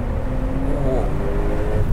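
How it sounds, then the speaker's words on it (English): 2021 Porsche 911 Turbo Cabriolet driving with the top down, a steady low engine drone with airy turbo whoosh and road rumble, loud and continuous, with a brief rising tone. "Normally, I don't like the sound of Porsche turbos because it just sounds like air, but with the top off, it's cool."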